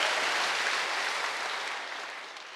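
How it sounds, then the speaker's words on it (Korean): A church congregation claps in praise during a sermon at Singil Church, a dense burst of applause that slowly fades over a couple of seconds. "우리 하나님께 영광의 박수 한번 올려드리고 싶습니다."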